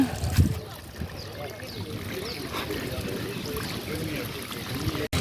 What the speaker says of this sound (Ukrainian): Зараз хочу піти помити ноги, бо по піску ходила